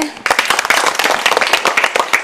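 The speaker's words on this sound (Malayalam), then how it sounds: "ക്ലാപ്പ് ചെയ്തേ" A group of people at a school event clapping together, a dense burst of sharp, close handclaps starting after a short pause and continuing steadily to the end.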